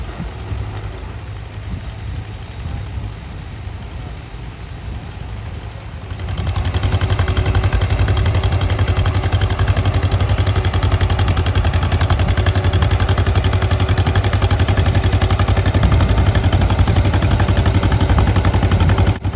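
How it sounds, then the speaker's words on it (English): A John Deere Model 40 tractor pulling a John Deere 415A mounted plow at a plowing contest, its engine droning steadily and growing louder and fuller partway through as it works closer. "David's competing with a sharp-looking John Deere Model 40, pulling a John Deere 415A mounted plow."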